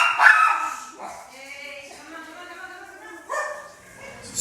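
Dogs bark and yip in short bursts nearby, a loud yelp at the start followed by softer whimpering calls and another bark near the end.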